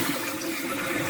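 Salty turkey brine poured out in a continuous gushing splash, a brief, steady rush of liquid heard close up with no voices.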